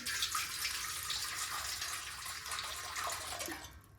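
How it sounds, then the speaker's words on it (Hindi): Water runs steadily from a tap into a metal steamer pot in a home kitchen, a continuous close splashing rush that tapers off at the end. "तो मैं यहाँ पे स्टीमर लगाती हूँ, इसमें भर लेंगे पानी"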